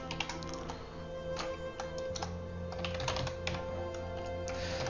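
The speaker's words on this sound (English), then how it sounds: "while I'm typing this out" Rapid, close keystrokes on a computer keyboard while code is typed, quiet irregular clicking bursts with brief pauses and no talk.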